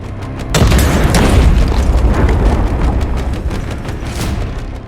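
A single heavy cannon shot from a Ukrainian Abrams tank striking a building, a loud deep boom with a long rumbling tail of debris and reverberation, with no voices.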